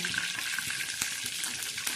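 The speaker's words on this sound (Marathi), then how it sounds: "हा कढीपत्ता भाजला जात आहे तळ्या जात आहे" Curry leaves crackle and sizzle in hot tempering oil while a stuffed brinjal curry is made, a steady, close, dense frying hiss with small pops, no voices.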